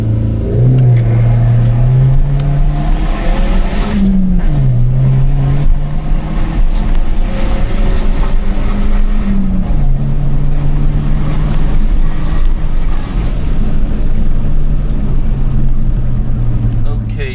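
A 245 hp BMW 114i launches and pulls hard, its engine droning and climbing through several gears with brief dips at each shift, loud and close throughout, with occasional voices talking over the run.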